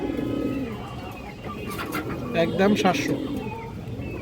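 Two black Muslodom female pigeons with short beaks coo in low throaty bursts mid-clip, while someone speaks over and between the calls.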